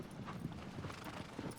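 Hooves of the horse Agro clopping in the Shadow of the Colossus game: a quick, regular trot of soft thuds, low and faint, running steadily without pause.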